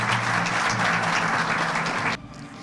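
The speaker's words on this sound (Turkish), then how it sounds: "Alkışlarınızla sahneye davet ediyorum." A hall audience at a university sports sciences faculty graduation claps loudly and densely for about two seconds, then the applause cuts off abruptly, leaving a quiet room tone.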